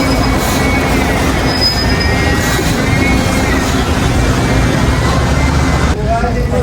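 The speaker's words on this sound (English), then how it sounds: "Lots of traffic and a lot of construction going on here." Dense, steady roar of city traffic amid construction in Portugal, with rumbling engines and a brief squeal, loud and continuous throughout.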